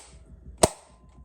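A Nerf Hyper Rush 40 hopper-fed blaster fires a single shot, heard as one sharp, brief pop close by, with only faint background hum before and after.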